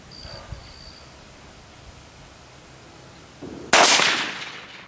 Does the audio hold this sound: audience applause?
no